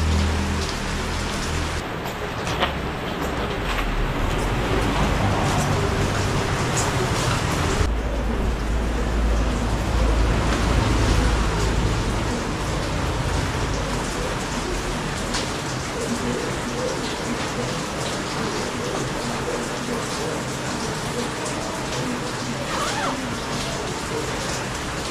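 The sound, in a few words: rain falling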